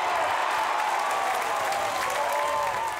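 The home crowd at a rugby league match between PNG Residents XIII and the South Sydney Rabbitohs roars and applauds after an opening try, a dense, steady wash of clapping and cheering from a large stadium crowd.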